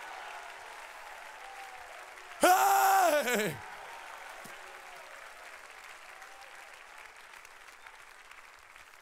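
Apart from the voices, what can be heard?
congregation clapping hands and shouting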